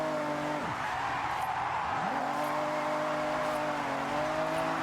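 A Toyota Altezza's engine in Forza Horizon 6 revs with pitch sweeping down and back up in fourth gear, while tires skid and squeal through a drift, fairly loud and continuous.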